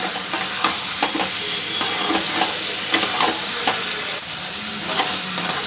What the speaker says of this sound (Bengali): চিনিটা দিয়েও ভালো করে নাড়াচাড়া করে নেব